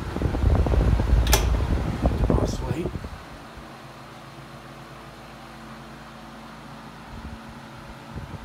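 A Hunter Rockefeller 12-inch Special Edition table fan runs with a steady, quiet motor hum and soft airflow. Louder handling noise and talk come first, then the fan continues alone.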